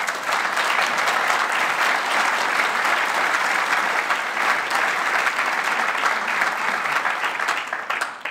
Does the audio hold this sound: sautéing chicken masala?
no